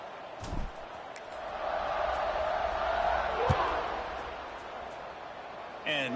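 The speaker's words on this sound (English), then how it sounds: "this crowd is buzzing after that last score" Stadium crowd noise from a college football video game, a steady broad roar that swells and fades after a score, with a commentator talking over it.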